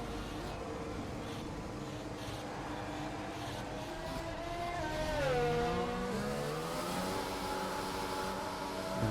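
Race car in a sim racing game spinning out onto gravel, engine note rising and falling in sweeping pitch bends as the car slides, loud and close with constant rumble throughout.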